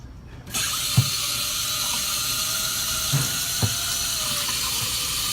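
Water from a tap sprays steadily onto a dirty K&N air filter, a broad hiss that starts abruptly and runs on, broken by a few faint knocks and clunks from handling the filter.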